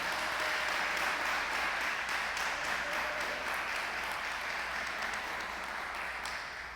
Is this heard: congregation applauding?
yes